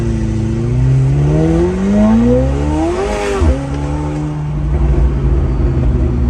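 A McLaren 720S engine revs loudly and close, climbing in pitch through the gears, sweeping past around the middle, then settling into a lower steady drone.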